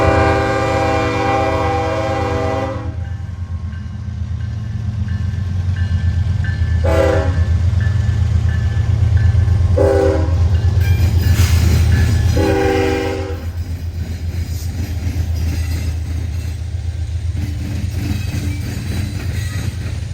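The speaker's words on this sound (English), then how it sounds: "Here's NS65D, an ethanol train powered by NS7655 and" A Norfolk Southern ethanol freight train rumbles past at Fostoria, Ohio with a steady low roar, its horn sounding in several short blasts over the continuous rolling noise.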